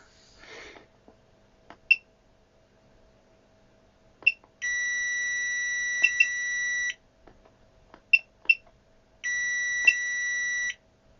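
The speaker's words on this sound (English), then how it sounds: "Let's check continuity." Owon CMS101 clamp meter sounding its continuity test: two sustained electronic beeps, each about two seconds long, separated by quiet stretches with small clicks and taps from the probes.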